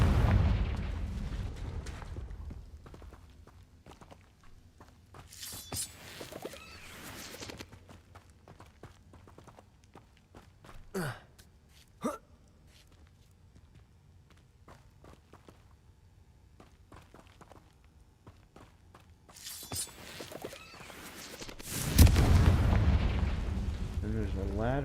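Spell blasts in the video game Hogwarts Legacy: a few sharp explosive bursts, with a loud boom near the end, set among quieter footsteps and game ambience.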